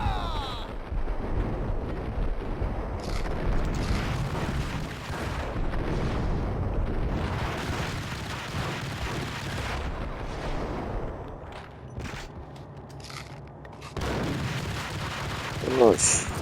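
Grenade blast and gunfire in the Max Payne video game, a dense, rumbling stretch of booming explosions and shots that fills the clip, loud and continuous with brief dips, some sharp bursts near the end.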